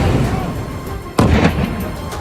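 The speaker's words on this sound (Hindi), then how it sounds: "दूसरा बम गिरा और धमाका हुआ और फिर एक और बम गिरा" Bomb blast from a drone strike in Gaza, a sudden loud broadband boom about midway that rings out and decays over a second, set against a steady rumbling background of distant noise.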